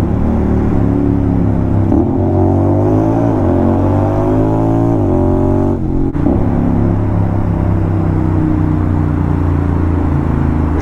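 Honda X-ADV scooter engine revving loudly after a downshift inside a tunnel, a steady, continuous rumbling drone with rising and falling rev sweeps, close and dominant throughout with no talk.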